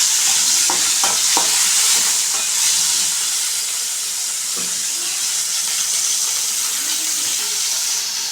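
Tomatoes and salt are stirred in a hot frying pan: a loud, continuous sizzling hiss with a few spoon scrapes early on, close up and without talk.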